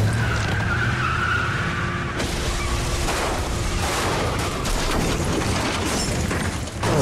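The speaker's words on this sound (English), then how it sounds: "Oh wow, a car crash?" Car skidding and crashing in The Walking Dead Telltale video game, a loud sustained tire skid and rumbling impact noise running continuously for several seconds with a sharp break partway through, no talking.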